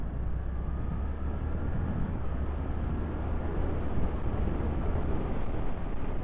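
A 2024 Suzuki GSX-8R motorcycle in third gear drones steadily at moderate revs below 5,000 rpm, a low continuous rumble with wind noise and no clear change in pitch.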